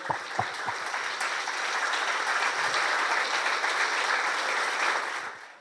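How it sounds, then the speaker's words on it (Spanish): Loud, sustained applause from a church congregation for a priest at a religious celebration, dense clapping filling the space from start to finish with a few sharper claps early on, then fading at the end. "fuertes aplausos para el padre que nos ha hablado del curita Brochero"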